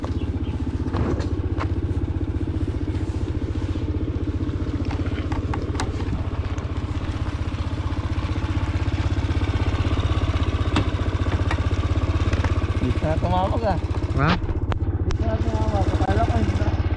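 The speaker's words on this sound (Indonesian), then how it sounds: "ako ang magdadala ng motor ni Reggie." A motorcycle engine idles steadily nearby in Taiwan, a low continuous throb running the whole time, with a few clattering knocks and people talking over it.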